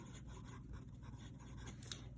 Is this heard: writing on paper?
yes